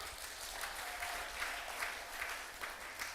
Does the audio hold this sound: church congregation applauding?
yes